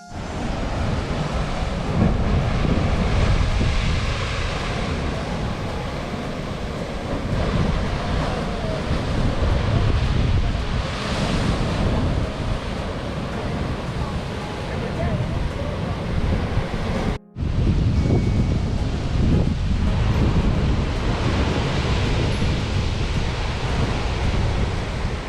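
Waves surging and crashing against the rocks at Devil's Tears on Nusa Lembongan, a loud, continuous roar of surf with heavy wind buffeting the microphone and one brief dropout partway through.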